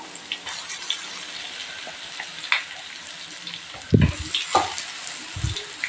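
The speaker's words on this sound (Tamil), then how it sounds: "இப்போ நான் அரைச்சி வச்ச தேங்காய் கடுகு இதெல்லாம் சேர்த்து நல்லா ஃப்ரை பண்ணணும்" Ground coconut and mustard paste fries over low flame with roasted peanuts in a pan for coconut mustard rice, a quiet close crackle and hiss broken by a few louder stirring knocks.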